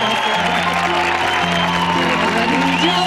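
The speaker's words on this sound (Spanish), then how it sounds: "¡Ese es fuerte aplauso!" A studio audience applauds on a Spanish television variety show, a steady wash of clapping beneath sustained music tones, continuous and fairly loud throughout.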